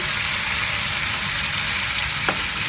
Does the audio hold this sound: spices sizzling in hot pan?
yes